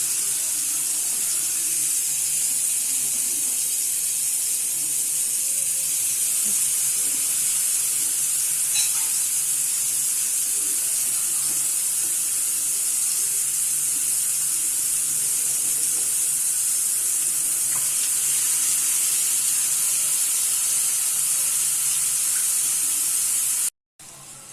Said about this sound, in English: Let the kebabs cook for at least 5 to 6 minutes one side on low flame.